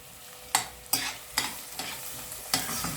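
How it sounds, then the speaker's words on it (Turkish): A spoon scrapes through a cup of washed red lentils toasting lightly in a pan for soup, with five or six distinct stirring strokes over a faint sizzle, close and otherwise quiet. "Bir su bardağı mercimek. Hafif biraz kavuracağım."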